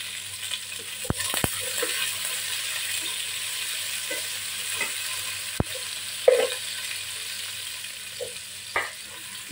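Garlic and onion sautéing in a pan for chicken adobo, a steady sizzle with occasional sharp clicks of a utensil against the pan.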